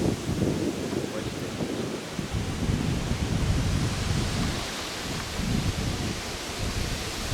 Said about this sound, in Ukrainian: Правда, тут вітер великий.